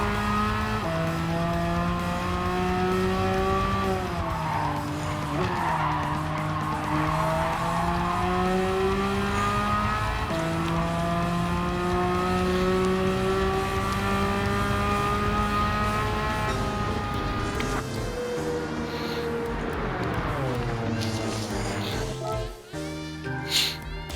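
Race cars in Gran Turismo 7 drone loudly and continuously, engine pitch climbing and dropping through gear shifts, with a brief tire squeal near the end of a race.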